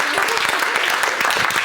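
A church congregation applauds to acclaim the Lord during a service, making dense, continuous clapping that fills the space at an even loudness.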